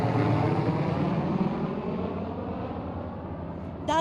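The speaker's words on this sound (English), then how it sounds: "That's the sound of an aircraft flying over" A steady, broad engine roar of an aircraft passing overhead, loud at first and easing slightly as it continues, with no voices.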